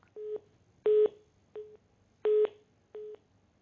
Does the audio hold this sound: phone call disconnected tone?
yes